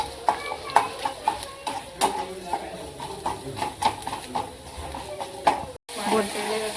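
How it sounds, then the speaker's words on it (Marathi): Tomato and spices sautéing in a pan for a black dry peas gravy, with a spoon clacking in a steady series of sharp knocks over a soft sizzle and a brief cut near the end. "मसाले जळू नाही म्हणून टोमॅटो टाकायचं टोमॅटो छान परतून घ्यायचं"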